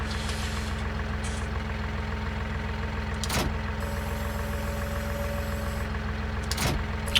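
Tractor engine in Farming Simulator 2019 running steadily at a low, even drone, close and continuous throughout, with a couple of brief clunks and a faint tonal whine partway through.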